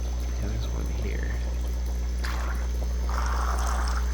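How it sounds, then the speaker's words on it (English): A small 2 or 5 watt wave maker stirs the water in a home aquarium for Japanese ricefish, giving a steady soft trickle and slosh over a constant low electrical hum, with brief louder splashy swells near the end. "2 or 5 watt wave makers that moves the water around, so it's constantly going"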